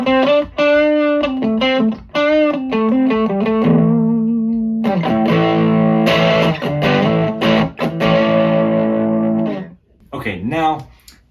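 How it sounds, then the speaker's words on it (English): A guitar played through a VOX AC10 tube amp with the gain turned all the way up, at a modest volume, gives sustained, heavily distorted notes and chords. They ring out in short phrases, then stop abruptly near the end. "if you turn the gain all the way up, even at lower volumes, it still sounds incredible, super distorted"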